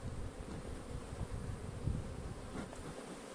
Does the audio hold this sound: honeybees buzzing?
yes